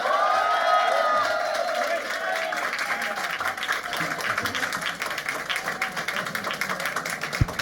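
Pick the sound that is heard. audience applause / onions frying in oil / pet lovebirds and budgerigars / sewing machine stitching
audience applause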